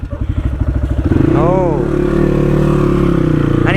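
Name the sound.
CX250R motorbike engine riding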